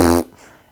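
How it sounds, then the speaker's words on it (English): A short, loud, buzzy fart lasting about a fifth of a second, tailing off into quiet room tone. "Farting in church."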